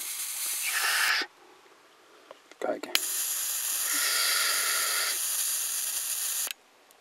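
A Plazmatic plasma lighter's electric arc buzzes and crackles in two steady stretches, a short burst then a longer sustained run, with brief clicks between and a single spoken word nearby.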